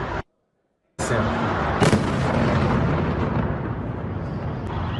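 A missile strike on Kyiv: after a brief silence, a loud blast bursts in and rolls into a long, heavy rumble that slowly fades, with a second sharp crack partway through.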